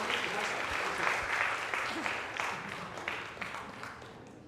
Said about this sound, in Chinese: 我们一起拍手，谢谢